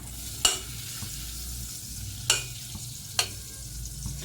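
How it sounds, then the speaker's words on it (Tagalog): Butter melts in a pan as the base for a white sauce for no-bake macaroni and cheese. A quiet, steady sizzle is broken by three sharp scraping knocks of a utensil against the pan. "So, 500 grams po nung 50 grams na butter. Melt lang po natin."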